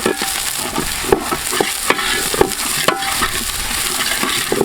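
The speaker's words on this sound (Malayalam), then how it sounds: "നന്നായിട്ട് പച്ചമണം മാറുന്ന വരെ ഇതിലിട്ട് വഴറ്റിയെടുക്കണം." Beetroot chicken masala with ginger paste is sautéed in a pan, giving a loud, close, continuous sizzle punctuated by regular scraping stirs of the spoon.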